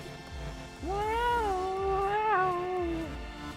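A human voice imitates a cat meowing in place of cat pipes: one long drawn-out wavering meow, fairly faint and close, over a soft rhythmic thumping background.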